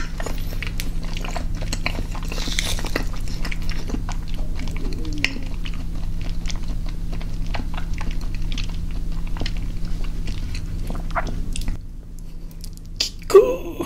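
Close-miked chewing of cheese and natto with salmon, a continuous run of soft sticky mouth sounds and small clicks over a low hum, ending with a brief louder clatter.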